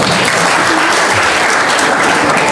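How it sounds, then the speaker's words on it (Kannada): A seated audience claps loudly and steadily at a district administration ceremony marking Constitution Day, dense applause filling the whole moment without voices. "ತಮ್ಮೆಲ್ಲರ ಜೋರಾದ ಚಪ್ಪಾಳೆ."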